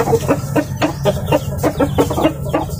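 Native hens clucking in a coop where they are laying eggs, a loud, close run of rapid repeated clucks and short calls with no talking.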